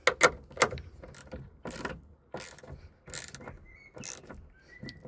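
A bolt hand-tightened on a Renault Twingo with a ratcheting tool, giving bursts of close metallic clicking and ratchet rattle in uneven spurts with short pauses between.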